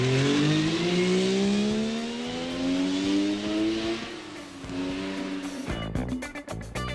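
Mercedes-Benz C111 experimental 1970s mid-engine sports car with a GFK three-door body and 258-horsepower fuel-injected three-rotor Wankel engine, driving past loud and close with a steady rising drone, then shifting and revving near the end.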